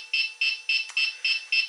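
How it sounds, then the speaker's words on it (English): A WLToys V911 micro helicopter sounds six sharp, evenly spaced high-pitched beeps during gyro calibration, loud and close with nothing else in the background. "Oh, that beep is absolutely horrible."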